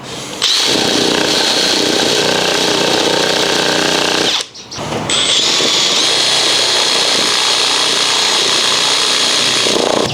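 A cheap jigsaw attachment driven by a drill saws loudly through material with a harsh, buzzing rasp. It stops briefly about midway, then resumes at full volume and runs on steadily.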